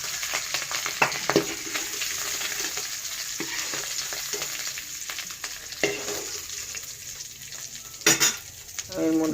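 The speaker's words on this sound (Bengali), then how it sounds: "জাস্ট একটা কালার আনার জন্য আলুটা একটু ভাজা করলাম।" Boiled potatoes lightly frying in hot oil in a pan give a steady, close sizzle, punctuated by occasional clinks and scrapes of stirring.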